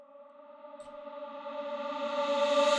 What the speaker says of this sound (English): press this reverse button, and it's gonna be reversing this reverb